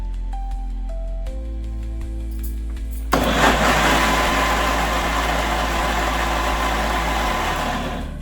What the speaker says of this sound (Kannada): ಇದನ್ನು ತಗೊಂಡೀಗ ಮಿಕ್ಸಿ ಜಾರಿಗೆ ಹಾಕ್ಕೊಂಡು ಗ್ರೈಂಡ್ ಮಾಡ್ಕೊಳ್ಳೋಣ